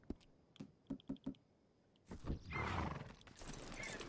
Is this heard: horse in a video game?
yes